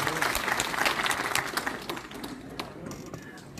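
Applause from an audience at a university ceremony, brisk clapping that starts strong and tapers off over a few seconds, with some crowd murmur beneath.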